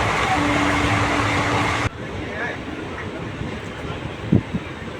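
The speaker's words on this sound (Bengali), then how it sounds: "একটা স্টেশনে এসে দাঁড়িয়ে গেল ট্রেন" A passenger train travelling between Sainthia and Bolpur gives a loud, steady rolling rumble that drops off sharply partway through, leaving quieter rattles and a few knocks as it slows at a station.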